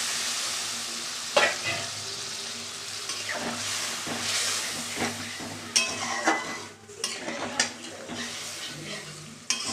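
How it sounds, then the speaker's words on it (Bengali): Pabda fish cooking in a pan with mustard and green chili sizzles steadily up close while water is added, with bursts of hissing and the scrape and clink of a utensil stirring against the pan. "এবার দেখো আমি জল দিয়ে দিচ্ছি"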